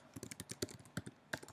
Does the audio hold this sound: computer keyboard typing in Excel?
yes